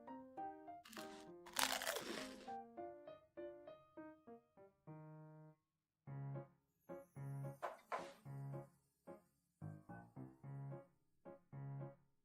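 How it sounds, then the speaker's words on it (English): Pringles potato chips are crunched close to the microphone in a rapid burst of loud crackles, then in a steady run of separate chewing crunches with short pauses between them. "I'm actually gonna eat some Pringles right now"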